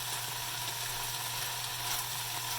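Green beans sauté in a hot pan, giving a loud, steady sizzle that holds evenly from start to finish without any voices.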